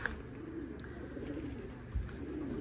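Racing pigeons coo softly in a loft, low murmuring calls faintly repeating against quiet background noise.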